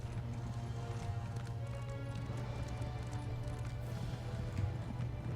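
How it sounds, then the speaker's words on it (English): A horse gallops with steady clip-clop hoofbeats in the Elder Scrolls Online video game, running continuously under a constant low musical drone. "Go, my trusty steed."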